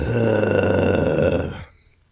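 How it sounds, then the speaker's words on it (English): A voice makes an open-mouthed, snore-like rumbling tone from a relaxed throat as a throat-singing technique, one sustained loud growling drone lasting about a second and a half before cutting off into silence. "relaxing the throat, keeping the mouth open, and making a type of snoring sound"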